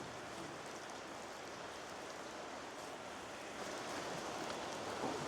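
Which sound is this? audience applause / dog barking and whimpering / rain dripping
rain dripping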